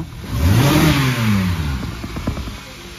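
A car engine revs hard during a race, loud and close, with rising and falling pitch sweeps as it accelerates, then settles into a rougher running rumble with clattering bursts.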